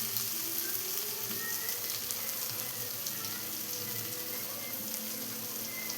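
Tomatoes and onion sauté in a pan for a kovakka (ivy gourd) curry, giving a continuous, even hiss of frying that stays close and steady from start to finish, with no voices.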